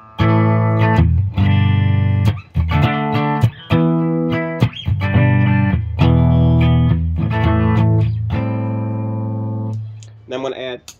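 Clean electric guitar through a Seymour Duncan P90 pickup played alone, a run of bright, ringing chords and notes with sharp attacks, strong sustain and no audible hum.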